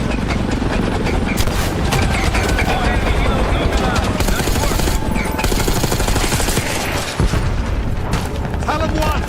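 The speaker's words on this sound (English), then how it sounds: "We got enemy helos in the air." Call of Duty: Black Ops 6 combat with helicopters overhead and heavy gunfire, a loud, dense mix of rotor thrum, rapid shots and booming blasts running continuously, with radio-style voices talking over it.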